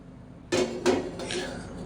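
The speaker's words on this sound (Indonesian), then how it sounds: "Nyalakan api kompor" A gas stove being lit for cooking rice vermicelli and eggs: a sharp metallic click and clatter at the knob, a second click, then a soft steady hiss of the burner, close and fairly quiet.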